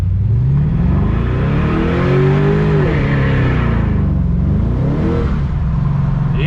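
A 1969 Camaro with a swapped LS V8 roars through a sustained one-tire burnout, loud and close, the engine pitch climbing and dipping under heavy revving with tire squeal and no talking.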